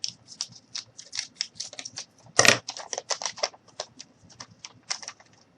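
A blade cuts through a cardboard piece for a mini stove in a quick series of short, crisp snips and scratches, with one louder crunch partway through, close up and without talk.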